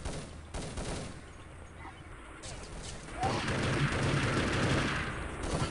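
Gunfire and grenade blasts in a team shooter match at a map spot called Pillars, a distant crackle of shots that swells into louder, denser firing and explosions in the second half; no talking.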